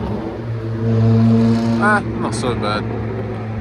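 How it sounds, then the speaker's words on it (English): A modified Japanese car passing over a speed bump at a car meet, a loud close engine drone swelling and fading with a short burst of higher pitched revving, while someone talks over it. "I believe we're gonna get a noisy flyby."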